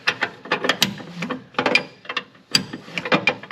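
A wrench works on flare nuts, giving quick bursts of sharp ratcheting clicks and metallic taps in an irregular rhythm, close and fairly clear.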